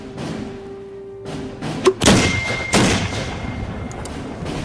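Mortar firing a hollow gunpowder-filled shell with a separate fuse, a single close heavy boom followed by a second muffled thump, with a low rumble continuing beneath.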